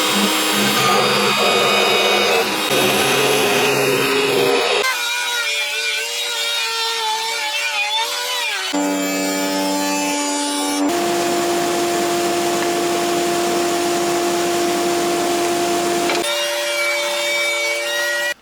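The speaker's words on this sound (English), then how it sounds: "Over to the pillar drill now, and I'm going to beef out the worst of that." A loud, sustained mechanical whine and rasp of a pillar drill boring into wood for a guitar body, changing pitch in several sections with no talking.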